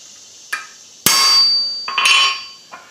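Hammer blows ring out while a bulldog bottle opener is forged from hot steel, a light tap then three sharp metallic strikes with long bright ringing decays and a faint final tap, loud and close with no talk.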